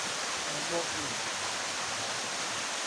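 A river with a strong current flows toward Marilao in Bulacan, heard as a steady, broad rushing noise while someone speaks a few brief words.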